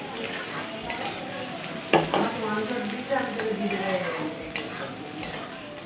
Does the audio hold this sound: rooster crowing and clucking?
no